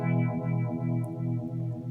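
Sustained distorted guitar chord through a sped-up phaser on a Mooer PE-100 pocket multi-effects unit, giving a fast, regular throbbing swirl like a univibe, steady and loud with no talking.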